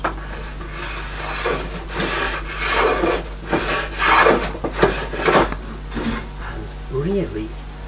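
A freshly sharpened woodworking tool, honed on a Tormek, shaves thin curls from wood in several rasping strokes, close and fairly loud over a steady low hum, with a few short pauses.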